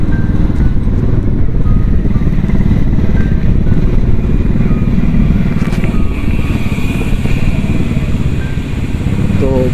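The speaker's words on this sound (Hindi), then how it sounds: "तो बाइक पर चल रहे हैं" Motorcycle riding through a narrow residential lane in Lahore, its engine droning steadily and close throughout, with voices talking over it.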